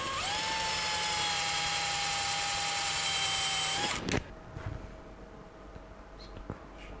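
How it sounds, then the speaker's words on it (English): A power drill bores a little deeper into a 737 flight simulator master caution panel, a loud, steady high-pitched whine for about four seconds, then it stops sharply and a few faint knocks follow in a quiet room. "So I just need to drill a little bit deeper."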